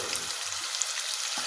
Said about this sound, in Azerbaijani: gördüyünüz kimi yağımız belə dağ olandan sonra ciyarlarımızı əlavə edirik